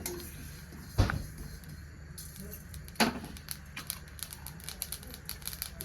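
A spoonful of sesame seeds dry-roasting in a hot kadhai on a gas stove, giving a few sharp isolated pops at first, then lighter, quicker crackles ticking away nearby.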